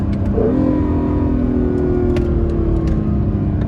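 An Acura NSX sports car takes a 20-mph-rated turn at about 40 mph, its engine humming steadily and close with a slight rise in revs and a low road rumble, and no one talking.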